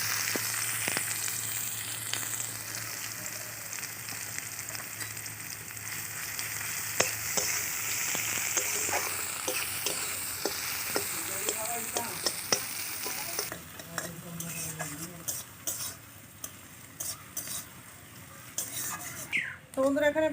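Chopped onion frying in hot mustard oil in a pan, a steady close sizzle throughout with occasional stirring scrapes, louder and crisper in the later part.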